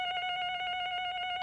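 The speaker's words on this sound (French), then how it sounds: "Je réponds au téléphone." An electronic telephone ring with a steady, rapidly warbling tone, near and clear, and no voices over it.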